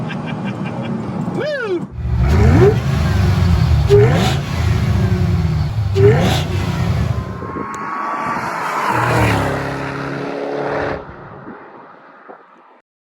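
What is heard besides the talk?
supercharged 2007 Saleen Mustang Extreme driving and revving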